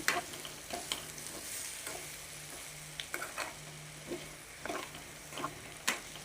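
Potatoes for aloo fry crackle quietly in a pan while a utensil stirs them in irregular scraping strokes. The sound is fairly faint and close, and there is no talking.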